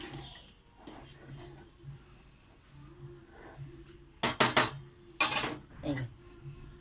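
A spoon scrapes and clanks against a pot while pointed gourd and shrimp curry is stirred, with a couple of bright metallic clatters over low kitchen background and soft talk.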